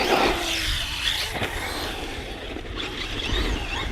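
A Hobby King Berserker RC car on 6S with 300k center diff oil drives and brakes outdoors, giving a steady mid-level motor whir with a brief scraping skid and a few bumps.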